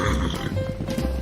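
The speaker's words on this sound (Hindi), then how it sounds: "सबसे तेज तो घोड़े ही भागते हैं" Horses in an animated Hindi fairy tale neigh and whinny, with hoofbeats faintly mixed into a busy, steady soundtrack; a voice may be faintly present.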